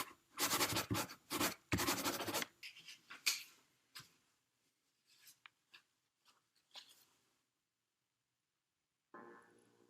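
Sharpie marker scribbling on paper, close and quiet, with a few dense bursts of scratchy strokes at the start, then sparser short strokes and pauses, and a brief final stroke at the end.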